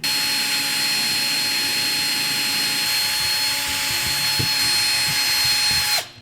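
A power drill runs steadily and loudly, boring holes through a deer antler skull cap, its high whine holding constant for about six seconds before it cuts off abruptly at the end.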